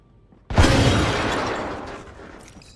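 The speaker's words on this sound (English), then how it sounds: "Frag grenades work best when bounced into tight spaces." A frag grenade explodes in the shooter game Apex Legends: one sudden loud blast after a brief quiet lead-in, followed by a long rumbling, crackling decay over about two seconds.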